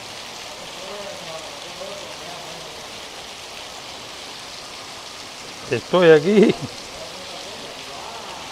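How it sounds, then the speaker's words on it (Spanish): Rain pours onto a street porch in Caibarién, Cuba, a steady broad hiss of falling water close by, with someone speaking briefly near the end over the downpour. "miren dónde estoy parado y dónde está llegando la lluvia"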